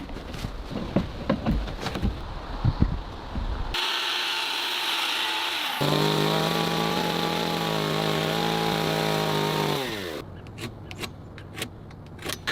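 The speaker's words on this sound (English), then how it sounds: "The long wooden log is being cut to the right size and used to install the railing around the porch." A power saw cuts through a long round wooden log for a porch railing, a loud sustained buzzing whine lasting several seconds between bursts of clattering and knocking handling noise.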